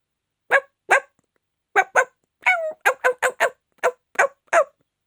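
A dog barks in short sharp yaps, around a dozen in uneven bursts with pauses between, close and clear with no other sound.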